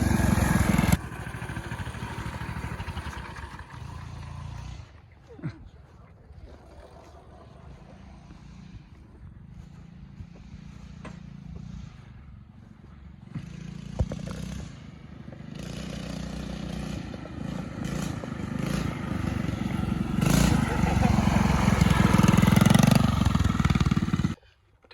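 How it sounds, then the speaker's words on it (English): Beat-up quad bike (ATV) engine revving and droning while being ridden outdoors, rising and falling with throttle, close and loud with wind buffeting and clatter. "So he's taking out my dad's rat quad right now."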